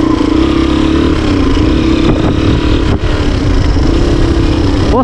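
A motorcycle rides along a hilly ridge road, its engine droning steadily and close with a constant low rumble and wind rush throughout, no voices.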